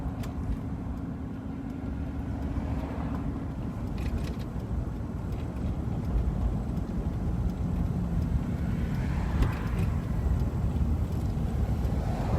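A car leads a rolling rally procession through the Matsu Valley in Alaska. A steady, loud roar of engine and road noise holds for the whole stretch, with no talk.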